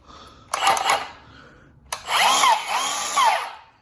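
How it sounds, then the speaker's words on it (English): Full-size 7 1/4 inch battery-powered handheld skill saw revved twice, each burst a loud whirring spin-up that winds down, the second burst longer with fluctuating pitch. "That's a 7 1/4 handheld battery-powered skill saw, full size."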